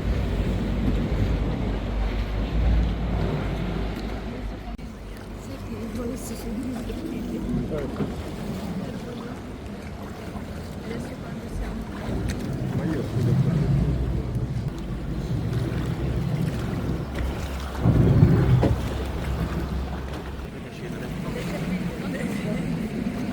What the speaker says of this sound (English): This is my budget gondola ride.